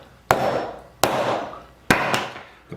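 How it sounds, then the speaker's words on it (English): A knife is hammered down through a sweet potato in three sharp, loud strikes, the last a quick double knock, each thud followed by a short dying ring. "get the knife set and start doing the hammering."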